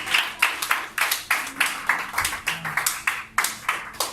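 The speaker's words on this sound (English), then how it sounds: "Give yourself a round of applause" A group claps together in a round of applause, steady fast hand claps close by and fairly loud, continuing evenly without voices.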